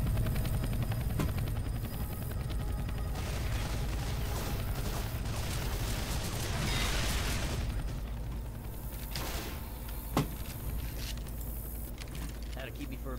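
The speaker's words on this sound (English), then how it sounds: "A chopper." Helicopter in Left 4 Dead 2's Dark Carnival level, a steady loud rotor drone running throughout with a few sharp transient bangs and game noise layered on top.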